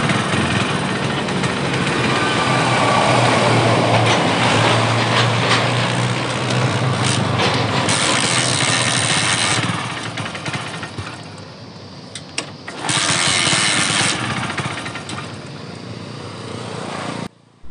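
A Hero HF Deluxe BS6 motorcycle engine with a starting problem runs loud and rough, revving unevenly, then sputters and drops off before roaring again and cutting out abruptly.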